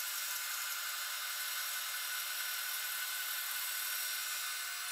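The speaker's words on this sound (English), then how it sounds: "And there we cut a beautiful piece of veneer, 25/1000 inch thick." An Accu Slice saw resawing a wide wooden board into thin veneer, giving a steady, even, hissing whir that runs unbroken and fairly faint.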